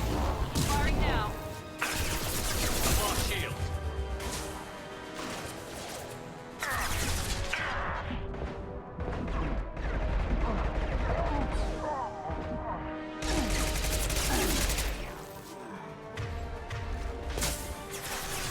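Weapons fire and explosions in the video game Mass Effect 2, loud repeated bursts, booms and crashes across the whole stretch, with voices talking over the combat.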